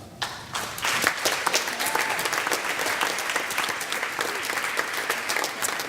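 An audience breaks into sustained applause, many hands clapping together in a dense, even patter that continues throughout.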